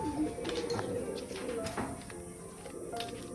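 A house pigeon with a safety pin fastened on its wing gives soft, throaty coos in short repeated phrases, quiet and somewhat distant, over faint background clatter.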